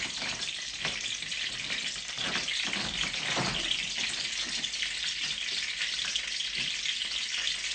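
Hot oil sizzling steadily in a pan on the stove, a continuous bright hiss with small crackles before any mustard seeds start popping, close and fairly loud.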